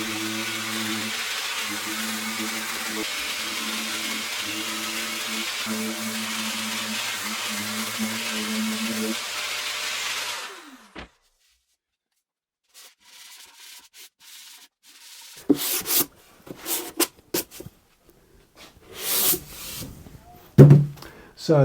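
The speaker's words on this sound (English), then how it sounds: "Then I can give it a quick rub down with a P120 to clean up any glue squeeze, finishing off with a P180." A plywood cabinet is sanded with P120 sandpaper, giving a steady, loud abrasive rasping for about ten seconds before it stops, followed by silence and then scattered handling knocks and bumps.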